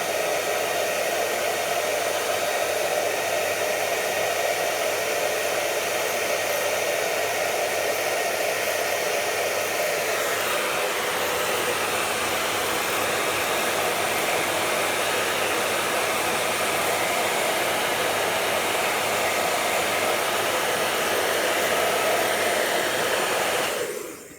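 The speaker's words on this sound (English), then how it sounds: "With the aid of a hair dryer." A hair dryer blows continuously on painted marble-effect paint for the whole stretch, a steady airy whoosh whose pitch shifts once partway through, then stops at the end.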